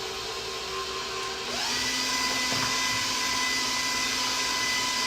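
Banana bread batter with sugar and vanilla is mixed by a motorized mixer. Its steady, close whine rises in pitch and intensity partway through and runs on without pause.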